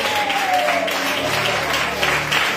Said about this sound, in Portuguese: se desejar glorificar, aplaudindo a Jesus por essa noite